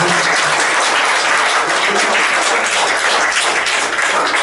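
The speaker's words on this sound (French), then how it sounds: "un applaudissement chaud" A church congregation at a Sunday service gives a warm round of applause, steady dense clapping that fills the room at full strength from start to finish.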